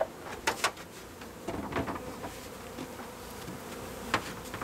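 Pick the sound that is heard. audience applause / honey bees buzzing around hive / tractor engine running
honey bees buzzing around hive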